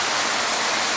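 Steady, dense rain pours down outdoors as a continuous close hiss with no breaks.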